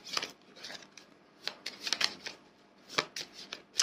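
Playing cards shuffled and drawn during a card reading, a series of soft riffling and flicking bursts, several quick snaps in clusters, close and fairly quiet with no talk.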